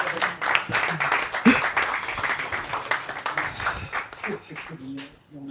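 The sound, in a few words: audience applause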